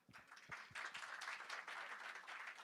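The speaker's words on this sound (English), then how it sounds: "can we have a round of applause for our organizers, generous sponsors, and supportive partners" Conference audience applause rises quickly into a steady, moderately dense clapping for organizers and sponsors, heard from somewhat of a distance in a large hall.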